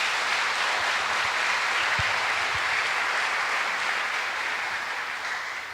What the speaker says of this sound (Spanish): Un fuerte aplauso para toda la comunidad.